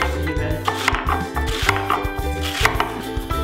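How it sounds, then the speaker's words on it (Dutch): A knife finely slicing pointed cabbage on a board, a steady run of close, crisp chopping strokes with no voices. "Je kan het ook iets dikker snijden, maar ik vind zelf fijn gesneden alles hier."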